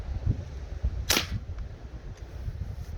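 A single sharp, fairly quiet crack from a Remington Warhawk rifle sounds midway through, set against low background rumble.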